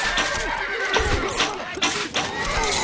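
A horse neighs and whinnies in the medieval strategy game Stronghold Crusader, with soft clip-clop of hooves beneath a busy in-game soundscape; a voice speaks briefly nearby.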